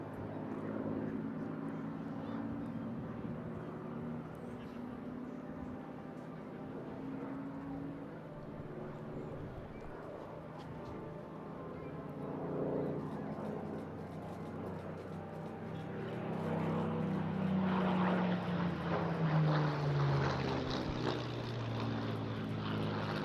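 A Supermarine Spitfire propeller fighter at the Eastbourne International Airshow drones overhead, its engine swelling louder and falling in pitch as it passes close in the last part.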